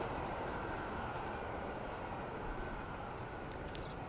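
Trains running in Transport Fever 2, a steady, faint rolling rumble of rail wagons with a soft clatter, continuous and unbroken throughout.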